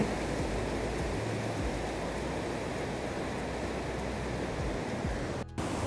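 A steady, broadband roar of rushing water fills the whole stretch, constant and close, with a brief dip near the end.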